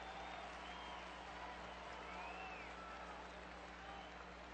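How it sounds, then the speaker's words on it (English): Steady, distant roar of a baseball stadium crowd during the first inning of a 2009 Angels game, a continuous wash of cheering and applause-like noise with no single voice standing out. "the crowd reacting early here to a big pitch coming up in the first inning"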